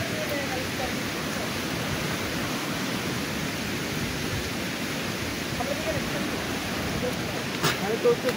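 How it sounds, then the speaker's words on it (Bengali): Waterfall on the Napittachhara trail in Sitakunda, Chattogram, heard amid light drizzle as a steady broadband rush of falling water, constant and moderately distant throughout with no talk. "ঝর্ণার কি শব্দ"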